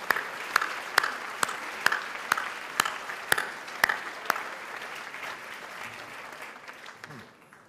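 Crowd applause at a Business Excellence Award 2010 event after Debora Patta's speech: a dense wash of clapping punctuated by loud, evenly spaced claps from one nearby person, which stop partway while the general applause fades out.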